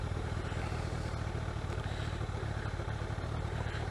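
A motorcycle runs continuously on a ride, its steady engine drone and road rumble loud and close with a faint clattering texture throughout, and no talking.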